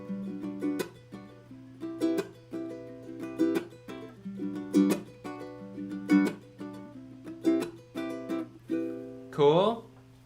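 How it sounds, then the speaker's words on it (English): Ukulele strummed in a steady rhythm with sharp percussive chucks, the strings muted with a slap between chords, close and clear for about ten seconds and ending with a brighter strum, no talking. "chucking with the ukulele"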